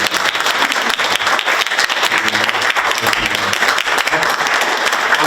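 An audience at a Korean community meeting with National Assembly members from the Foreign Affairs and Unification Committee bursts into loud, dense applause that continues steadily through the whole span.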